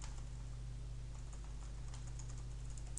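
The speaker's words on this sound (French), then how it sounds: "Sinon, vous pouvez taper vous-même quelque chose." Faint typing on a computer keyboard, a light, uneven patter of key clicks over a steady low hum, with no voices.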